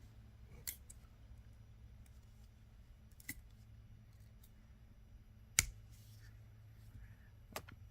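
A few sharp scissor snips trimming wire while making hair sticks, four isolated clicks spaced seconds apart over a quiet room hum, with no speech.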